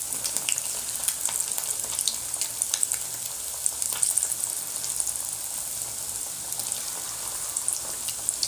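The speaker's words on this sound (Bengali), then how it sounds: "এখন আমি এই চিকেনের পিসগুলো সব ফ্রাই করে নেব" Chicken pieces fry in hot oil with a steady, crackling sizzle and scattered pops, close up and continuous throughout.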